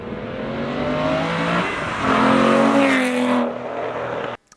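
An Aston Martin's naturally aspirated engine revving hard, a loud rising and falling mechanical howl climbing through the gears, close and alone, cutting off abruptly at the end.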